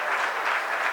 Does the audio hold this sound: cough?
no